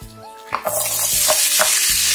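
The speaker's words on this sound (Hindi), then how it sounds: "अभी मैं इसमें डाल रही हूँ वेजिटेबल्स जो मैंने कट की थी ब्रोकोली एंड कैप्सिकम" Broccoli and capsicum tipped into a hot pan for pasta arrabbiata, bursting into a loud close sizzle that holds steady, with a few knocks of a utensil stirring the vegetables.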